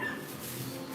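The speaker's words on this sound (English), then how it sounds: "Got one damn dog that barks all night." A single dog barks and whimpers outside at night in a quiet city setting, heard faint and distant over steady low background noise for about a second.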